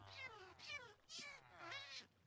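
Minecraft cat meowing several times in a row, a series of rising and falling meows that come close and fairly loud, with no talk over them.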